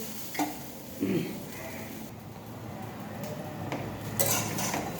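Food is stirred in a frying pan, with a few distinct clanks of a utensil against the pan over a soft, continuous frying hiss, heard close and moderately quiet.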